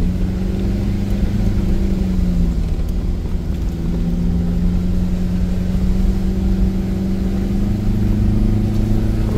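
An off-road vehicle's engine labours and revs steadily while descending a steep concrete mountain road, a loud, continuous mid-pitched drone with slowly shifting pitch, close up and without pause.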